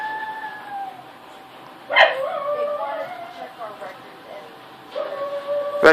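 Dogs bark inside an animal shelter, with two sharp loud bursts of barking and yips over a lingering whine, while people talk nearby.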